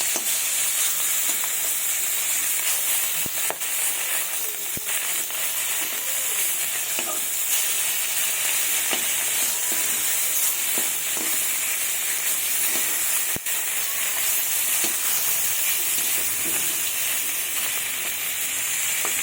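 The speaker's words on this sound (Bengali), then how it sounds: "মাছগুলো আমি লাল লাল করে ভেজে নেব। এবার আমি উল্টে দেবো মাছগুলোকে।" Pieces of mrigal fish frying in hot oil give a loud, continuous close sizzle, with a dense bubbling hiss and occasional sharp pops and crackles throughout.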